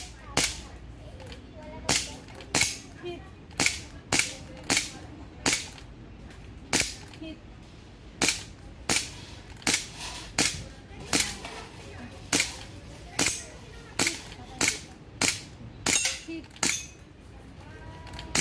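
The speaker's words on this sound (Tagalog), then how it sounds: "Saka may putok." Sharp cracking gunshots fire one after another at an uneven pace, roughly twenty-five sharp reports, during basic gun safety training, with brief speech in the background between them.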